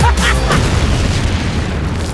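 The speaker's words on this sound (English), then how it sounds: "Explosion!" A loud, booming explosion from an action movie trailer, one heavy low rumble that starts hard and slowly decays over about two seconds, with a brief voice at the start.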